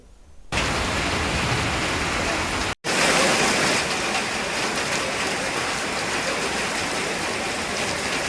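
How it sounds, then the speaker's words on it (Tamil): Heavy rain pouring over Puducherry, a dense steady hiss of downpour that starts after a brief quiet moment and continues loud and unbroken apart from one abrupt cut. "புதுச்சேரி நகர பகுதி மட்டுமின்றி கிராமப்புறங்களிலும் கனமழை பெய்தது"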